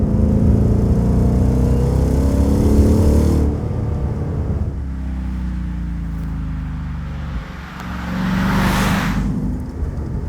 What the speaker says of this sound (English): having a loud exhaust like that is the staple of what makes one of these cars a muscle car